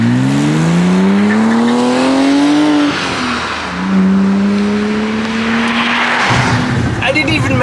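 A Porsche sports car engine, heard with the windows down, revs up through the gears, pitch climbing, dropping at a shift and climbing again, loud and close with a brief lull mid-way.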